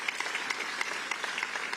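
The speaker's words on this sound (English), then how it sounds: "Let's give her a round of applause" Audience applause at a New York State celebration with the Governor and business and union leaders: steady, fairly faint clapping from a room of people, with scattered sharper claps throughout the short burst.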